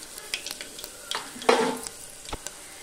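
Tempering spices dropped into hot oil after fried garlic for a bottle gourd curry, crackling in short faint bursts with one louder sizzling flare midway, close by and without talk.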